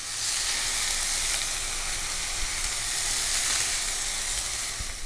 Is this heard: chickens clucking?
no